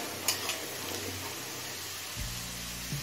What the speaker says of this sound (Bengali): আলুটা লাল করে ভেজে নিয়েছি